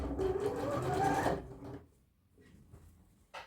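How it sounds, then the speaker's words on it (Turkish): A sewing machine topstitching over a dress facing runs in one close, steady whirring burst for over a second, then stops, followed by quiet handling noises and a short click. "Pervazın üzerinden çima dikişi atıyoruz."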